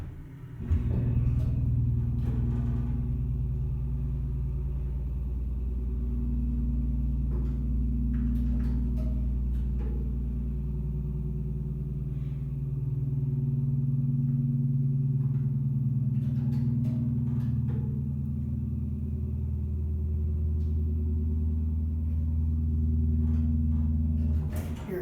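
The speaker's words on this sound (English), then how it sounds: "let's listen to this old hydro motor." An old Marshall/Rotary Oildraulic piston-pump hydraulic elevator motor runs with a steady, deep, low rumbling hum that stays constant throughout, broken by occasional faint clicks and knocks.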